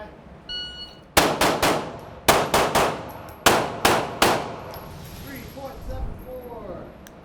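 Sharp gunshots ring out at an outdoor shooting drill, several loud reports in quick strings after a timer beep, with steel targets clanging; voices talk around the shots.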